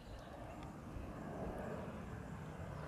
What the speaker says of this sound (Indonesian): Tuh pesawat-pesawat penyemprot pestisida bulan Juli seperti ini.